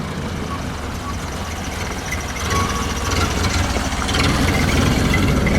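A 1931 Ford Model A Huckster delivery wagon hot rod engine runs steadily with a low rumble that grows slightly louder partway through, with faint voices in the background.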